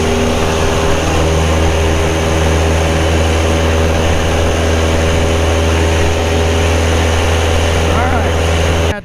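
A Piper Cub's engine runs at full power with flaps out and carb heat in, a steady loud propeller drone filling the whole clip, a constant close roar with a voice speaking over it.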